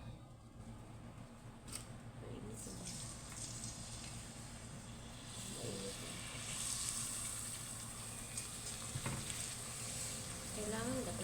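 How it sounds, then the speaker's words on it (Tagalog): Very thin potato slices fry in hot oil with a steady, moderately loud sizzle and crackle that stays fairly even throughout, with occasional clinks of a utensil stirring the pan. "So, iprito na natin ito."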